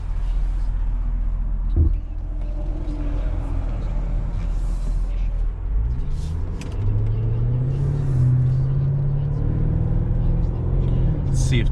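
2019 Lamborghini Urus SSUV in Strada mode, a loud, steady engine and exhaust rumble from inside the cabin with a low droning rise as it pulls away, talk over the top.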